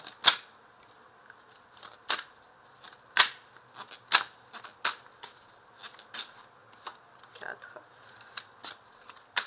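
Tarot de Marseille cards are handled and laid out close by, giving a series of sharp, crisp snaps and flicks at irregular intervals, with a voice talking between them.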